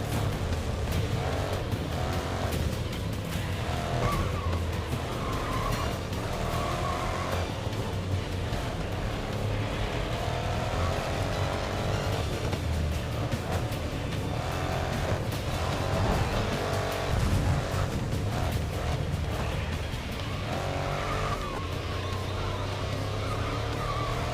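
Race car engine drone in GRID Legends runs steadily and loud throughout, with tire skid noise layered over the constant motor roar.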